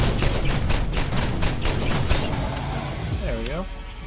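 Dense, continuous bursts of gunfire from a Borderlands firefight against an alpha skag, loud and busy throughout with sharp repeated shots layered over a rumbling background.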